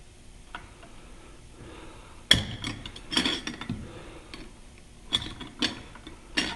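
Metal router wrenches clanking and ratcheting against a router collet as it is loosened, a few sharp close clicks and taps over a quiet workshop background.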